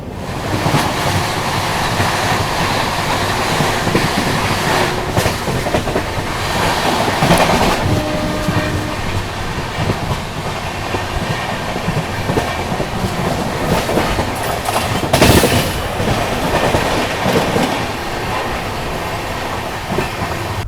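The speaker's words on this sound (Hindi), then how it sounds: "चलिए निकल चुके अपनी ट्रेन जो है तिरुवल्लुर से।" The 22159 Chennai Superfast Express passenger train running on rails after leaving Tiruvallur, heard from onboard as a loud, continuous rumble with rhythmic clickety-clack of wheels over rail joints, steady throughout.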